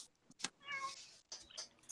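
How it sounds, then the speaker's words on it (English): A cat meows once, a faint, drawn-out call in the background, framed by quiet clicks and rustling, with no one talking. "I hear a cat."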